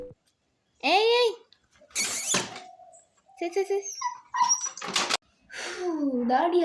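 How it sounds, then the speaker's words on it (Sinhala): A black dog at a home whimpers and squeals in several short, high, wavering bursts separated by pauses, fairly close by, with a voice talking briefly in between. "අර මේ කළු බල්ලා ඉන්නවනේ."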